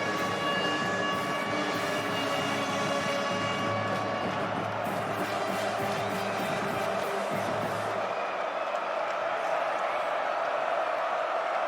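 TCU Horned Frogs student section at a college football game against SMU, making a broad, continuous crowd roar at a distance, with a steady hum underneath that drops away near the end.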